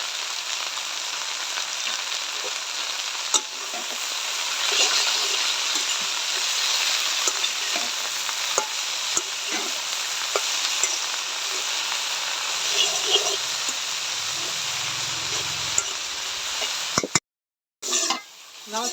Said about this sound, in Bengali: শাক ভাজিটা আমার হয়ে গেছে